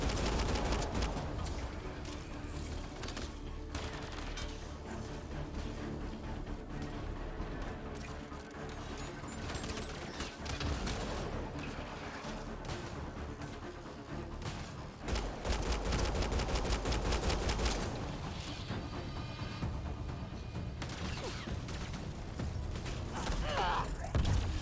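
Gunfire in Mass Effect: Andromeda rattles in sustained bursts under a dense, busy mix of mechanical clatter and combat noise, moderately loud and continuous, with voices talking at times.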